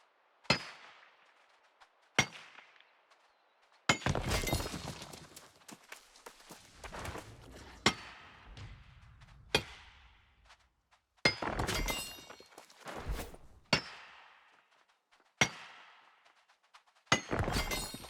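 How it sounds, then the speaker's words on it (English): Rocks are smashed with repeated sharp clanging, cracking strikes while mining in New World, about eight separate blows spaced a second or two apart, each ringing out briefly into near silence. "Smashing rocks."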